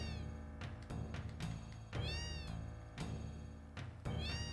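Cats in the video game Final Fantasy VII meow again and again, a string of clear, rising and falling cries in a close, loud sequence with no talking.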